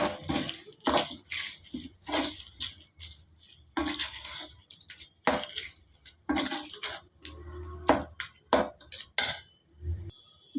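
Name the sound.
mixing gongura thokku chutney in a bowl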